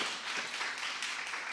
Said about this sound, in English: Give Reverend Dr. Rich another round of applause